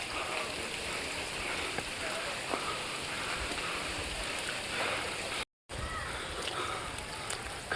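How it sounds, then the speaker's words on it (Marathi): Light rain patters steadily through dense forest on the trail to Karnala Fort, a constant soft hiss of drops on leaves and ground, briefly cut out partway through. "थोडा थोडा पाऊस पडतोय"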